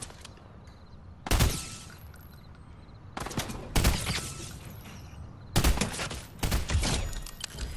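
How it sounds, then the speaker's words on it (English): A harpoon gun fires during a Fortnite squads match, producing several loud, sharp blasts with bursts of rapid gunfire between them and continuous game action in the background. "I'm using the harpoon gun thing."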